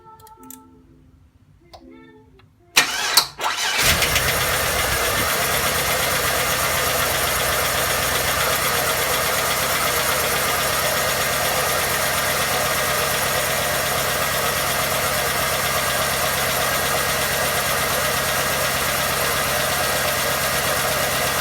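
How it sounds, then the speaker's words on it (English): A car engine cranks briefly after a few quiet seconds of clatter, catches, and settles into a steady, loud, even idle that drones on unchanged through the rest of the stretch. "we'll start the car up and have a look and see if anything leaks"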